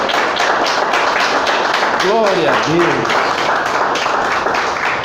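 A church congregation claps steadily during a worship service, the broadband applause running the whole time beneath a preacher's voice that rises briefly above it.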